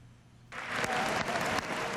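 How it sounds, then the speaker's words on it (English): Members of Congress applaud the president's State of the Union address, broad sustained clapping from a large chamber crowd that starts abruptly after a quiet moment and holds steady. "President Obama basking in the applause of Congress"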